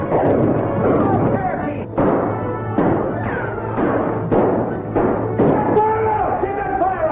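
Gunfire in a gunfight from a 1939 western film, with repeated sharp shots breaking out every second or so over loud, constant shouting and talk throughout.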